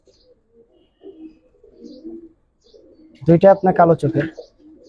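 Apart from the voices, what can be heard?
Giribaz and coloured pigeons cooing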